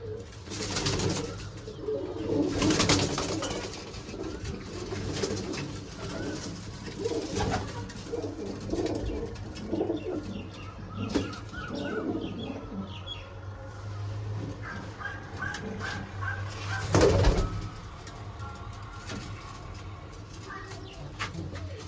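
Pigeons coo softly in a loft or coop, low murmuring calls recurring over a steady background hum, with occasional louder bursts and a dog barking faintly.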